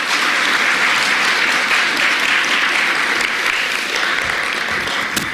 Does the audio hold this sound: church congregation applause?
yes